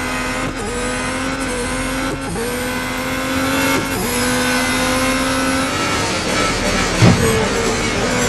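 Red Bull race car in the racing game Real Racing 3: a loud, continuous engine drone holding steady pitch with brief gear-shift dips and revving, plus a sharp bump near the end, with no talk.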